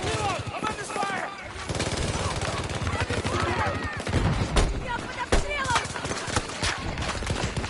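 Dense gunfire in the video game Battlefield 2042: rapid automatic bursts and sharp single shots crackle continuously, loud and close, with a few heavier cracks and radio-style voices talking over the battle.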